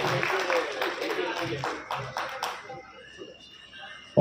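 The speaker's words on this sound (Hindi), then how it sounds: "जोरदार ताली हो जाए दोस्तों, जोरदार ताली के साथ।" An audience claps in a burst of applause at a public gathering honouring lawyers, with a voice speaking over the clapping before it tapers off.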